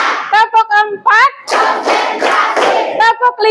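A class of children claps in rhythm, counted out in short bursts between a woman's spoken counting, the claps growing into quick, loud rounds of many hands close by in a classroom.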